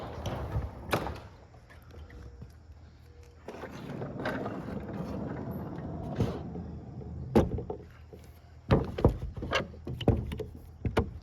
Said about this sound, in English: some of these doors stick